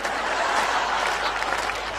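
Audience applause at a Hindi poetry recital, a steady dense clapping from a crowd that holds evenly for the full two seconds with no pauses.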